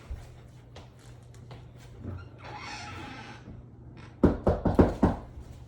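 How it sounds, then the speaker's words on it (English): Knocking on a closed door, a quick burst of several loud, close raps near the end, after a quiet stretch with faint background noise. "Now she's gonna knock."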